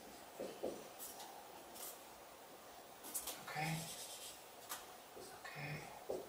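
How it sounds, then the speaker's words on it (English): Marker strokes and rubbing on a whiteboard during an organic chemistry lesson on the SN1 mechanism, a series of short scratchy squeaks and wipes spread across the clip, fairly faint over room noise. "So I'm going to erase the hydrogens and draw the bonds."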